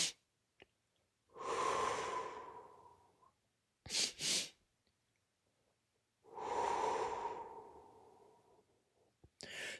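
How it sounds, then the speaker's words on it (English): Two long, slow breaths pushed out through the mouth as part of a calming breathing exercise, each a soft airy exhale lasting a couple of seconds, close and quiet, separated by short sharp inhales. "and then 1 long breath out your mouth, like this."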